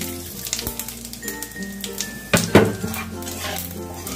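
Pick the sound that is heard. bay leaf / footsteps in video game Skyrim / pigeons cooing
bay leaf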